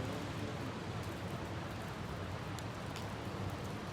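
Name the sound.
rain in the video game Kidnapped Girl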